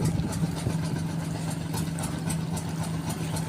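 A small boat's 4DR jeep engine idles steadily with a low, even chugging hum, close by and unbroken, with no voices.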